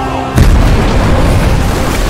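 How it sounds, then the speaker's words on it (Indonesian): A sudden heavy boom from a warship's forward cannons firing at once in a naval battle, followed by a rumbling roar that lingers for the rest of the moment. "memerintahkan untuk menembakkan kepala naga dan semua meriam depan sekaligus"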